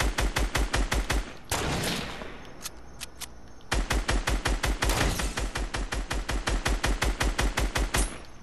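Rapid automatic gunfire from a Fortnite match, long loud bursts of evenly spaced shots, a short pause with lighter scattered noise, then another sustained burst continuing to the end.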